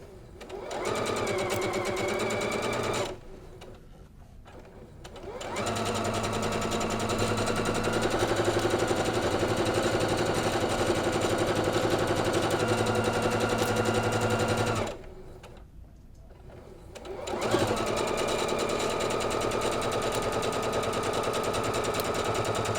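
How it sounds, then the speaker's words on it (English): A sewing machine chain-stitches rows of a quilt top, running loud and continuous with a steady rapid needle rhythm that breaks briefly twice and then starts again. "I'm going to continue sewing my next row."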